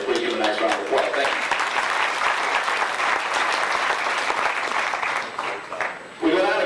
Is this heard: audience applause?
yes